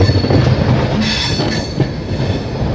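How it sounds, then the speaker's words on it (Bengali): Jan Shatabdi Express slowly rolling along a curve into Howrah station, heard from inside a coach: a steady loud rumble of wheels on rails with a rising metallic hiss and faint squeal, continuous throughout. "ট্রেন এবার খুব সুন্দর একটা কার্ভ নিয়ে ধীরে ধীরে হাওড়া স্টেশন এন্টার করছে।"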